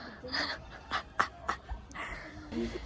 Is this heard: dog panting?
yes